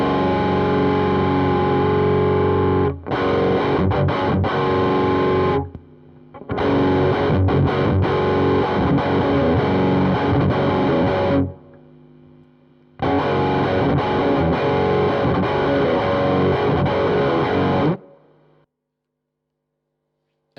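Electric guitar through a Nepomuk Big Muk amp at high gain in fat mode, thick distorted chords ringing in three sustained passages separated by brief gaps, loud and close, ending in silence.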